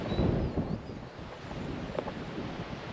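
A breezy wind blows across an exposed ridge in the woods, buffeting the microphone with a loud, steady rumbling roar that swells and eases slightly, with no talk.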